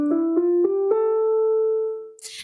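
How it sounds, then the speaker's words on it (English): A minor scale played on a melodic instrument: four clear ascending notes in an even rhythm, settling into a held final tone that rings and fades, alone with no talking. "We also have the minor scale."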